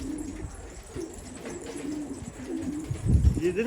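A pigeon coos softly amid outdoor background noise on a rooftop, with a louder low rumble near the end.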